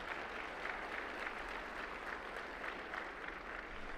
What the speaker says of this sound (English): Let's give them a round of applause for Simmons Bank.